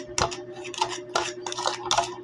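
A utensil scrapes and clinks against a bowl while ingredients for a homemade recipe are mixed, giving a series of close, irregular metallic knocks and stirring scrapes in uneven bursts.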